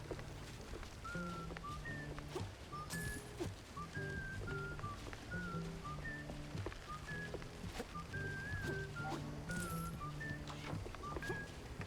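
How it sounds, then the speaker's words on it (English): A whistled tune from the Mouse: P.I. for Hire video game plays steadily, a bright melodic whistle carried over a low musical backing throughout. "I'm enjoying this whistling tune."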